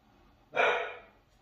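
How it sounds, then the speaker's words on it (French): A single close, loud bark from a pet dog at home rings out briefly and fades, with no talking over it. "j'ai mon chien qui aboie"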